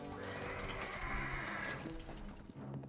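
A trained war horse gives a loud, drawn-out whinny, rising and wavering for about two seconds, with faint hoof clatter underneath and no speech.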